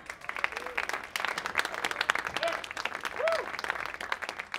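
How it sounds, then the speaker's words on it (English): Studio audience applauding as musicians from the Jezabels come out for an interview in New York, with bright, scattered claps and a few cheers and whoops rising over the steady clapping. "give a big round of applause for Haley and Nick from the Jezabels"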